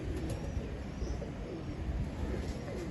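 Pigeons cooing in a rooftop loft, soft low throaty coos repeating through a steady murmur of background noise, close but not loud.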